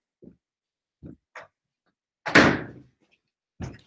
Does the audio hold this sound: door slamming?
yes